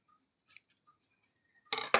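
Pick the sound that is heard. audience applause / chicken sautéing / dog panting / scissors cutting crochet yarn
scissors cutting crochet yarn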